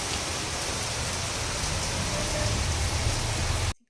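Heavy rain pouring down in a residential neighbourhood, a dense steady roar of drops on surfaces that holds for nearly four seconds, then cuts off abruptly.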